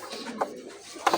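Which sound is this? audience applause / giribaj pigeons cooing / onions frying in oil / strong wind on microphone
giribaj pigeons cooing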